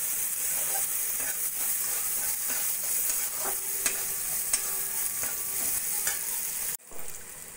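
Frozen peas frying with salt, turmeric and pepper, giving a constant hissing sizzle under repeated light stirring scrapes, close and fairly quiet, ending with a brief sharp knock.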